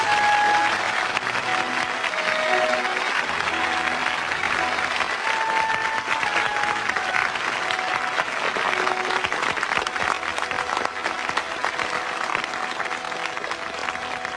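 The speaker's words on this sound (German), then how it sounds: "Ein Applaus für Mario." Studio audience applauding a magician's stand-in assistant at a live stage show, steady dense clapping that fills the whole stretch at an even level, with faint tonal music lines running beneath it.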